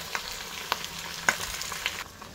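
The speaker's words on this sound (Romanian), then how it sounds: "Și voi mai lăsa să se călească pentru circa 2 minute." Chopped onions sautéing in a pan for a cheap Romanian vegetable soup, giving a soft steady sizzle broken by a few sharp clicks of stirring, close and fairly quiet, with no talking.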